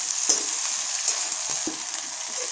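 Chopped okra with onion stir-frying over high heat, a dense continuous sizzle with a few dull knocks of a spatula against the pan, close and steady, no talking.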